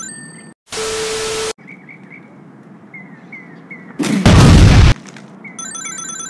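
Airstrike explosions in the video game Heroes Online World: two loud, sustained bursts of blast noise, the second heavier and deeper, separated by quieter game effects and a background hum.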